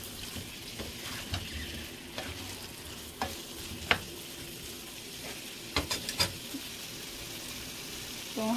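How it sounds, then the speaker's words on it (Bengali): Fried chicken pieces are stirred with spices in a hot pan, a soft continuous sizzle broken by scattered scrapes and clicks of the spatula against the pan, close and fairly quiet. "ফ্রাই করা চিকেনগুলো দিয়ে দিচ্ছি। দিয়ে খুব ভালো মতো নেড়ে মিশিয়ে নিচ্ছি মশলার সঙ্গে।"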